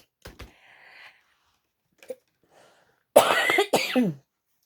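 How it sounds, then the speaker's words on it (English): A few dry coughs and throat clearing, close up, with a faint click or two in between and quiet pauses around them. "Excuse me, sorry, I've still got a bit of a cough."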